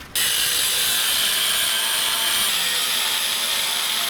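A 1/8 inch steel plate being cut for a homemade rear bumper bash bar, a steady, loud, harsh grinding hiss that runs unbroken for about four seconds, then stops abruptly.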